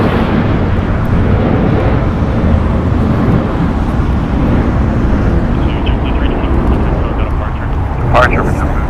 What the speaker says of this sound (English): Turning Airbus A321. It's 5 years old.